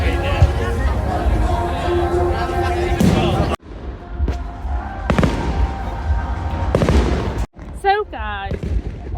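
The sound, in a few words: fireworks going off outside on Bonfire Night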